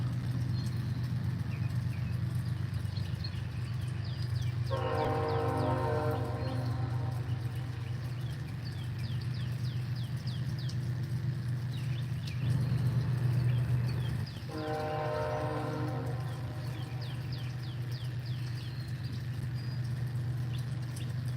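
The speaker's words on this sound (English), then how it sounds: "I knew it would blow the horn when it got closer" A passing train sounds its horn twice, long chord blasts a few seconds each over a continuous rumble of rolling railcars, loud and fairly close outdoors at sunrise.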